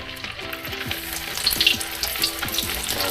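Snakehead fish fries in hot oil, a loud, close, continuous sizzle with bubbling crackle and occasional sputters, steady throughout with no voices.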